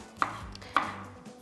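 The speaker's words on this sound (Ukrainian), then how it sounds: "Для того, щоб чесник віддав свій аромат, я його розчавлюю. Ой так а потім нарізаю." Two sharp knife chops through garlic on a cutting board, spaced about half a second apart, close and clear with a faint hum between them.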